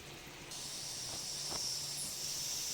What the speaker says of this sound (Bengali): এই লুচিগুলো ভেজে নিচ্ছি